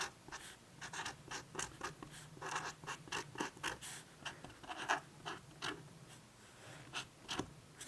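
Pen or marker scratching across a painted canvas, a run of quick rhythmic strokes close by, with brief pauses between words being written.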